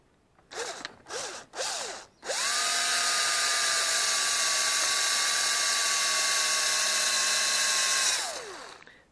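A drill bores into a steel part from an Ursus C-360 tractor: three short whirring spin-ups, each rising and dying away, then a long steady high-pitched whine for about six seconds before it winds down.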